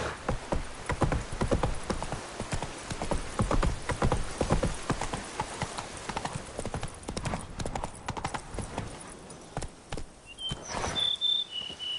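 Hooves clip-clop in a fast, rhythmic gallop from a horse in the video game The Witcher 3, loud and close at first, then slowing and thinning out toward the end as a few tonal game sounds appear.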